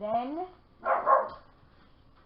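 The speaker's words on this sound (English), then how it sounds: "excuse my dog for barking" A dog barks twice in close succession, fairly loud and near, in a quiet indoor room right after a woman's short spoken word.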